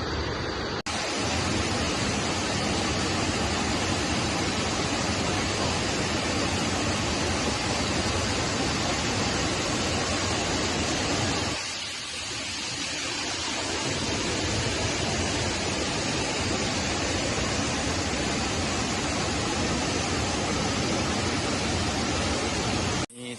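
Waterfall at Tad Kuang Si near Luang Prabang, Laos, a loud, steady broadband roar of rushing, crashing water that continues throughout, briefly thinning for a moment midway before surging back to full strength.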